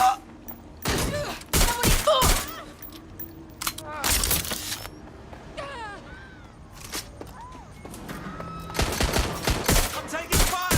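Gunfire in the video game Watch Dogs Legion, loud bursts of shots coming in clusters with quieter gaps between them, mixed with shouting voices and other game effects.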